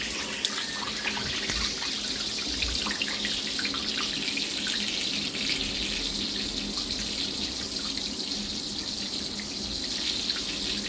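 Water pours steadily from a tap into a tank being tested for leaks, a constant bright rushing hiss that runs unbroken and fairly close, with no voices.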